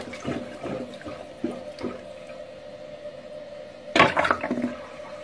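A plunger works a toilet bowl up close, giving several wet, squelching sloshes of water followed after a pause by a louder gurgling, flushing surge near the end, with no talking.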